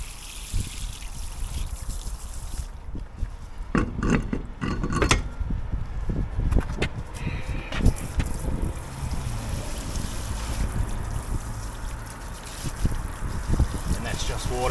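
Pressure-washer water spray blasting mud off the wheel and brake area of a Hyundai i20 before a brake job, a steady rushing hiss with sputtering bursts, close up, with people talking over it.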